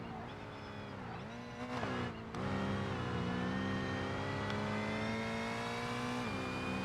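A race car engine in the BeamNG driving game revs high and steady, its pitch dipping and climbing with gear changes and throttle lifts, loud and continuous with no talk.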